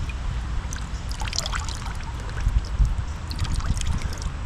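Muddy water trickles and dribbles out of a dirty fuel filter on an old, long-neglected John Deere tractor, a steady close splashing flow with small bursts over a low background rumble.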